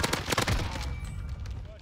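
Gunfire in Call of Duty Cold War Warzone, a quick rapid burst of automatic shots up close, then fading into ambient game noise with a voice faintly present.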